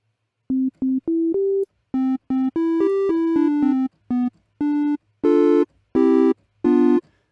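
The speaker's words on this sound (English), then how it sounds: "this is the sound that comes from one oscillator" A single synthesizer oscillator plays a short melodic sequence of clean, sustained tones, each note starting and stopping abruptly with brief gaps, the last few notes louder and brighter; no voice is heard.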